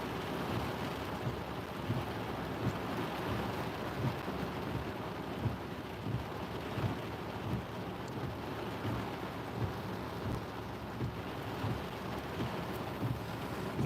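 Steady rain hisses throughout a tornado-warned thunderstorm while deep thunder rumbles and rolls beneath it, continuous and fairly close, with no voices.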